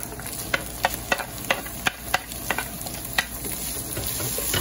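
Garlic and onion hitting a hot pan with cooked chorizo, a close sizzling hiss broken by a regular series of sharp spatula scrapes and taps as the mix is stirred.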